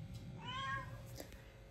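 A house cat lets out a single soft, rising-and-falling meow, fairly faint and close, in a quiet indoor setting with no one speaking.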